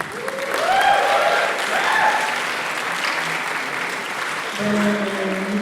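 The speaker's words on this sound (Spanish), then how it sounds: "Un aplauso también muy fuerte por este disco." Applause from the audience at a listening session for a new album, a steady crowd clapping for several seconds with a few whistles and cheers threaded through it, swelling again near the end.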